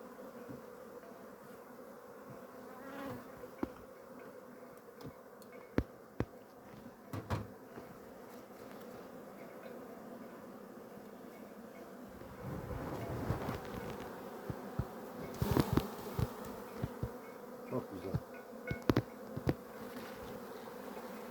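Honey bees hum at the hive during the autumn honey harvest, a steady swarm buzz that stays close and continuous, broken by occasional knocks and clicks from handling the hive boxes.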